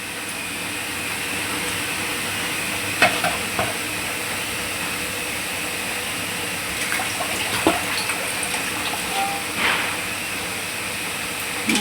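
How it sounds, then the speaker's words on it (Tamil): Kavala fish kuzhambu simmering in a pot after the oil has separated, giving a steady close bubbling hiss with a few soft pops and crackles scattered through, no voices. "இப்போ பாருங்கள் மீன் குழம்பு கொதிச்சிருச்சு"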